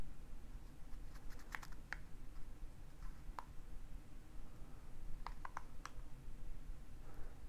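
A PIN code being entered on a Leelbox Q2 Android TV box, heard as a few sparse clusters of light, close key clicks over a steady low background hum, with no talking.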